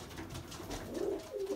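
Young pigeons cooing at close range, soft low throaty coos rising and falling in a couple of short phrases over quiet background.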